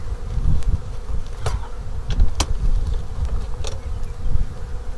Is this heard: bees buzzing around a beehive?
yes